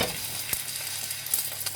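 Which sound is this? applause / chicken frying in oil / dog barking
chicken frying in oil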